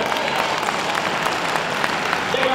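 A dog show crowd at Manchester 2017 gives continuous, dense applause after a Skye Terrier wins the Terrier Group, a loud, steady wash of many hands clapping throughout.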